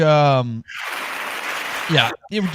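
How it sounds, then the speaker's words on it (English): Crowd applause greets the announced Rookie of the Year winner, San Antonio Spurs player Stephon Castle, a steady dense burst of clapping between stretches of talk. "Well-deserved round of applause here."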